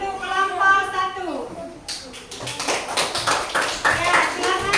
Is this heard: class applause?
yes